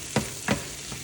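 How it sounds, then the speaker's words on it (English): Shrimp frying in a pan with pancetta and garlic, a steady faint sizzle broken by two stirring scrapes, no voices. "we're gonna go ahead and add our shrimp to our pan here with the pancetta and the garlic"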